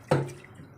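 Water poured over cooking ingredients while they are washed, for a goat head curry: a single close splash onset that trails off into a short drip.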